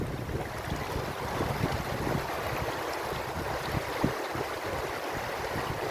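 Creek water rushing steadily and close by, a dense continuous wash with wind buffeting the microphone, no voices.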